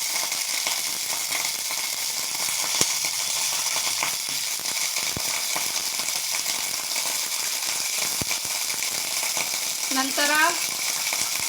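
Mustard seeds sizzle in hot oil for a quick lemon saaru, a constant dense frying hiss that lasts throughout with a short stirring scrape near the end, while a voice speaks briefly over it.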